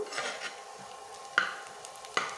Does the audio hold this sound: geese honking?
no